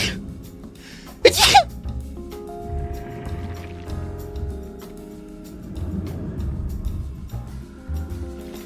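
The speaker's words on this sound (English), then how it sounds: "I have to sneeze again." A single loud, sharp human sneeze bursts out early, followed by quieter sniffling and low room noise with faint background sounds.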